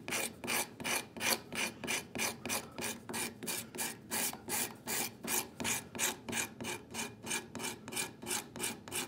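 A hand scraper works a wooden saw handle in quick, even repeated strokes, each a crisp rasping scrape close by, about three per second in steady rhythm.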